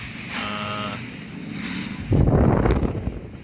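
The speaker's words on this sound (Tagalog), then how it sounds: "Lakas ng hangin talaga." Strong wind with heavy rain blusters loudly against the microphone, rising into a heavy rumbling gust partway through, with a faint tonal hum early on.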